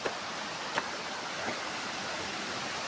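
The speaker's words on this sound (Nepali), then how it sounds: "यो झरना पनि एकदमै रमाइलो रहेछ" Mingalung Wadhan waterfall pours in a steady, soft broadband rush, with a few faint brief clicks and no voices.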